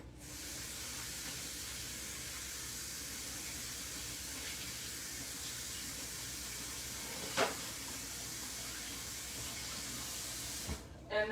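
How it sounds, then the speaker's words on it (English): Steady hiss of tap water running into a kitchen sink during hand washing, broadband and continuous for the whole stretch with a couple of brief knocks near the end, no talking. "I'm just gonna wash my hands really quick."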